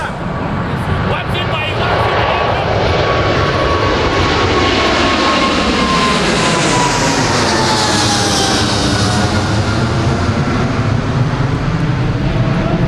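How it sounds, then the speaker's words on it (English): A low-flying propeller airplane passes over a cricket ground, its loud engine drone swelling and sliding in pitch as it nears and moves away, with a voice talking over it. "these planes are coming lower and lower and lower"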